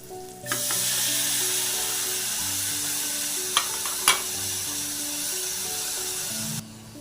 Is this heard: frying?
yes